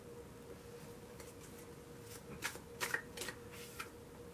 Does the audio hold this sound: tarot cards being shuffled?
yes